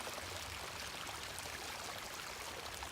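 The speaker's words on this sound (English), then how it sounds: "there is a good amount of water going into this lake" Mountain stream flowing into a lake at its inlet on a hiking trail, a steady broadband rush of moving water, quiet and continuous with no talking.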